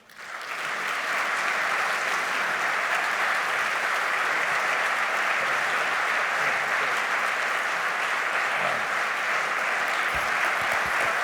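Sustained applause from a forum audience welcoming former Defense Secretary Chuck Hagel, a dense, steady wash of many hands clapping that swells up within the first second and holds loud and even throughout.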